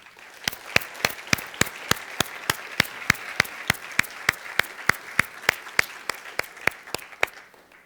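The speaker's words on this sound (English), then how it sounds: "Let's give them a round of applause." Steady, evenly spaced claps ring out in a firm rhythm over a soft wash of crowd noise, an audience giving a round of applause at a university event.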